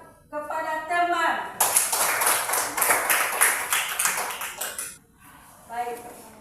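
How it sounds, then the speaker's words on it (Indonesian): A classroom of children claps for a classmate, a short burst of quick, bright, close-up clapping lasting about three seconds, with a voice speaking just before and just after. "tepuk tangan"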